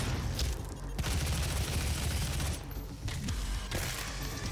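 Heavy double-barrel super shotgun blasts in DOOM 2016, a few deep booming shots spaced apart over dense, loud combat noise.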